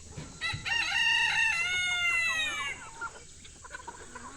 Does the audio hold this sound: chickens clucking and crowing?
yes